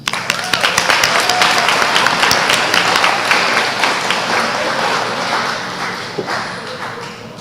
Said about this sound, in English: Please join me in giving a big round of applause to our soon-to-be high schoolers.